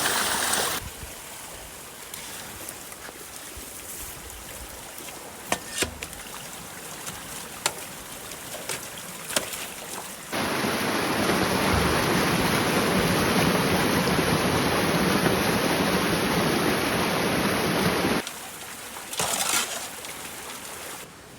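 Water rushing through a partly plugged road culvert, a steady broad roar that swells loud for several seconds mid-clip, framed by softer trickling flow and occasional knocks.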